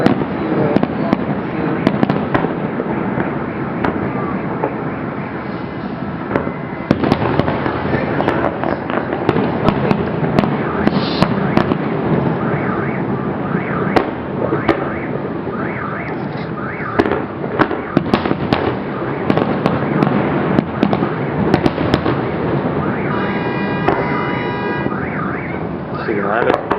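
Fireworks over Golden Horn bay in Vladivostok, heard from a hilltop, pop and crackle continuously in a dense, loud barrage with sharp bursts, while a car alarm warbles in the background.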